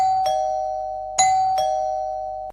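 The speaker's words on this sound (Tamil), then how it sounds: "காலிங் பெல் அடிக்கிறா" A doorbell chiming indoors, a loud steady electronic tone with repeated clicks and a renewed chime partway through, ringing on without pause.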